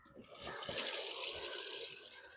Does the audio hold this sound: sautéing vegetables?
no